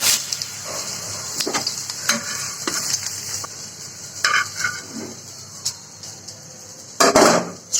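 Peeled, washed and cut sweet pumpkin pieces sizzle steadily in a hot frying pan, with sharp spatula clinks and scrapes against the pan as they are stirred and lifted out.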